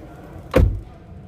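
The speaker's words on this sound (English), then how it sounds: "Let's close the door." A single solid door slam of a 2022 Proton X70 car, close and loud, a short heavy thud over quiet background.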